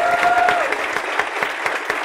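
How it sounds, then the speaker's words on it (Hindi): Students in a CA Intermediate accounts class clap together in a brisk, even burst of applause, many hands close by, with a faint sustained tone fading under the clapping. "पाचोरा महाराष्ट्र खानदेश के लिए ताली बजाए"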